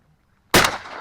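A single sharp shotgun blast on a duck hunt, close and loud, bursting out of near silence and trailing off in a short echoing decay.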